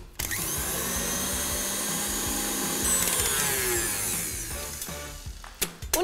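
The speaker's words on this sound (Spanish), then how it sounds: "Así que vamos a rebañar, a batir un poquito más y tenemos lista esta crema de relleno" An electric mixer whirs steadily and loudly, beating a cream filling for pumpkin spice latte cookie sandwiches, with a continuous motor drone and a few rattling knocks near the end.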